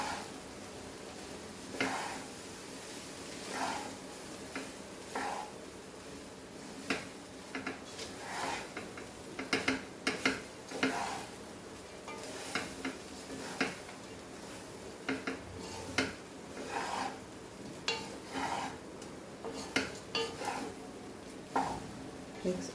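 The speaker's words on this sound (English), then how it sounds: "Mix all this nicely." Goan coconut rice ingredients being mixed in a pot, with irregular scraping, clinking and stirring bursts of utensil against metal over a steady low hum, close and moderately loud throughout.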